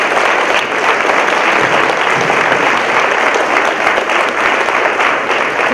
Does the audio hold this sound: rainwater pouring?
no